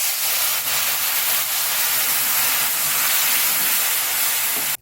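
Water hits a hot frying pan with a loud, steady hiss and sizzle that lasts the whole time and cuts off abruptly at the end.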